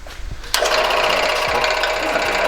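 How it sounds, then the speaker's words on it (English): A bandsaw starts up with a sharp onset and runs as a steady, loud, buzzing whine with a faint hum underneath. "so we actually have the bandsaw running."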